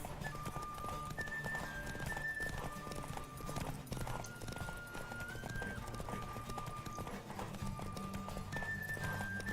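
A horse gallops in The Witcher 3 with rapid, continuous hoofbeats, accompanied by a steady musical score.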